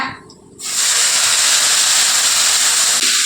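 Water added to frying masala in hot oil bursts into a loud, steady sizzling hiss after a brief quiet moment, then holds at full strength to the end.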